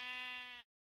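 A single sheep bleat from a video game, one clear, close, nasal cry lasting about half a second before cutting off to silence.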